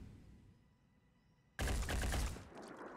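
Sudden close, loud burst of rapid gunfire from the tactical strategy game Phoenix Point, a dense fusillade lasting under a second after a quiet lead-in, then fading into a softer rattling tail.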